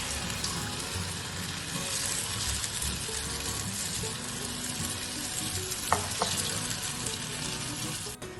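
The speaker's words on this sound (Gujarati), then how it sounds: "પકોડા આપણે મૂકી લઈએ" Rice pakoda batter frying in hot oil, a steady, dense sizzle and crackle running throughout at close range, with a few faint clinks near the end.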